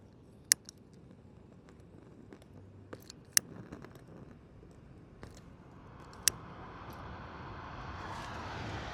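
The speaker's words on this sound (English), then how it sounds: "Oh, here goes a plane." A faint airplane drone gradually swells in the distance, with a few sharp clicks and taps nearby and no talking.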